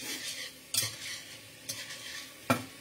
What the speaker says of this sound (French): j'aide un petit peu le beurre à fondre en le fouettant un peu